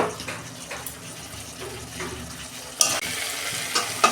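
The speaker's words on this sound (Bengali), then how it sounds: "দেখুন বন্ধুরা উচ্ছে রেসিপি আমার হয়ে গেছে, আমি ঢেলে ফেলছি" Cooked bitter gourd curry with potato and eggplant is poured out of a pan, giving a steady wet, sizzling slide of food and liquid with a sharper clatter near the end.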